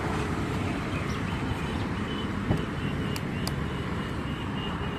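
A Bajaj Pulsar N250 motorcycle idles, its exhaust giving a steady, even rumble heard close by, with a faint click or two partway through and no speech.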